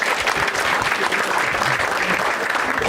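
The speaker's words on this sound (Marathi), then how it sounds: "एकदा या दोघांसाठी टाळ्या वाजवा" An audience at a stand-up comedy show claps for a couple, a close, dense burst of applause that holds steady for about three seconds.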